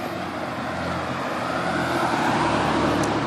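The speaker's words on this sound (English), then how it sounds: "Another car." A car rolls past on a street nearby, a steady broadband road rumble that swells slightly toward the end, with no one talking over it.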